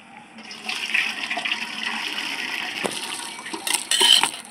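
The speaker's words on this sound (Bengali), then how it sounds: "এখন আমি জল ঝরিয়ে নেব।" Cooking water poured off boiled, still-firm potatoes being prepared for crunchy potato chips, a steady gushing splash of liquid running for several seconds, close and fairly loud, with a brief surge near the end and no talking.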